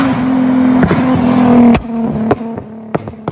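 A car with a Nissan VQ engine revving hard nearby, a loud raspy drone that cuts off sharply, followed by a few quick throttle blips and pops.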